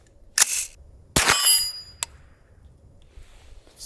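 Suppressed CMMG Banshee 9mm carbine firing supersonic rounds onto a steel target outdoors, giving two sharp metallic clangs with ringing tails and a fainter third tap, no talking.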